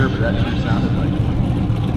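A small-block Chevrolet drag racing car's engine rumbles loudly and steadily at a drag strip, heard beneath a commentator talking over it.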